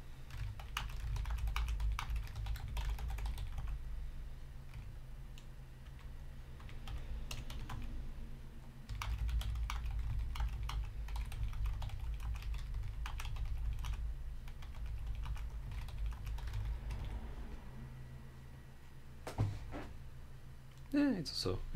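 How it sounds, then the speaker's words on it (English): Computer keyboard keys are typed on in quick, irregular bursts of close clicks, pausing briefly between runs, over a steady low background hum. "I also want to check the noise from the keys, so I'll just type stuff."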